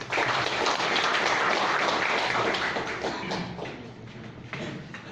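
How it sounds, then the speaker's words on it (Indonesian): Audience applause in an indoor seminar hall, dense clapping from a crowd, loud at first and gradually thinning out over about five seconds. "Beri aplaus Bapak Ibu"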